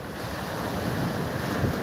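Ocean surf rolls steadily beneath gusting wind at the coast on a calmer morning, a continuous broad rushing wash with no distinct breaks and no voices.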